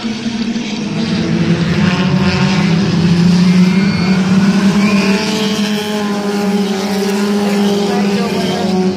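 Compact race cars drag racing down the back straightaway at Midvale Speedway, a steady loud roar of several engines holding high revs, droning continuously with a hint of crowd or announcer underneath.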